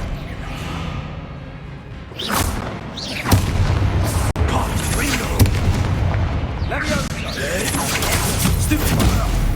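Confringo blasting spell in Hogwarts Legacy erupting in heavy booming explosions, loud and close, with rumbling blasts and crackling debris following one another under a spoken voice.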